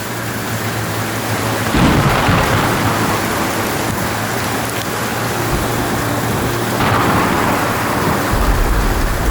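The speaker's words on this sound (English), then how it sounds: "When the rain comes, it comes hard, soaking the ground with water." Heavy rain pours steadily in a dense hiss while low thunder rumbles and rolls underneath, loud and continuous throughout.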